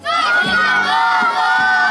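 Children at Amanda's 18th birthday party shout a loud group chant in unison, a sustained crowd of young voices with rhythmic accents, close and energetic.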